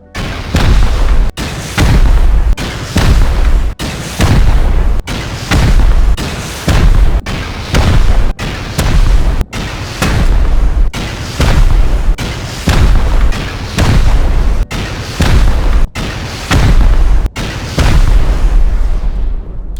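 Repeated explosions from raiding a solo base in the video game Rust, a dozen or more loud booming blasts in a steady series, each about a second or two apart, with no talking.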